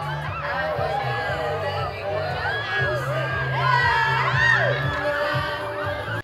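Fiesta crowd cheering at a stage performance, a loud mass of screaming and shrieking voices with high-pitched squeals and whoops over a thumping musical beat, peaking midway before fading.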